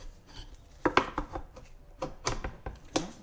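A metal tire spoon levers a scooter tire over the wheel rim by hand, giving a string of sharp, close clanks and short scraping knocks at an uneven pace.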